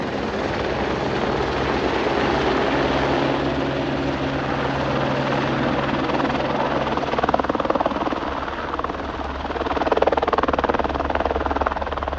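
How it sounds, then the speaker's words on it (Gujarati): A helicopter arrives at the Kedarnath helipad in the Himalayan mountains, its loud, close rotor thump and engine whine rising and swelling steadily throughout. "હેલિકોપ્ટર આવી ગયું બીજું."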